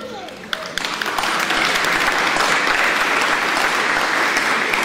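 Wedding guests applaud the wedding party, the clapping swelling within the first second into a loud, dense, sustained roar that holds to the end, with a voice briefly heard at the start.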